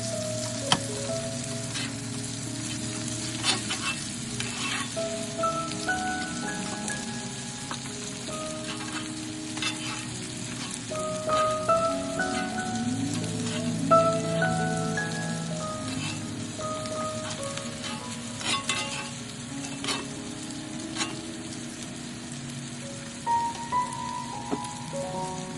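Honey garlic glazed salmon sizzles steadily in a pan while sauce is spooned over the pieces, a close, continuous crackle with scattered pops and scraping, and nobody talks.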